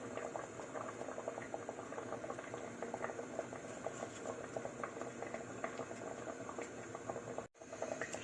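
A pot of fish and celery soup with ginger and carrots comes to a boil, giving a steady, close, busy bubbling and hiss that runs throughout, broken by one brief dropout near the end.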